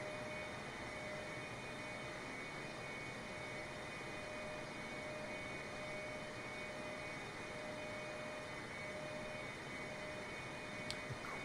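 Boeing 747-8i jet engines in Microsoft Flight Simulator on a Seoul to Tokyo flight, a steady broadband roar with a faint constant whine, even and unbroken throughout, with no talk.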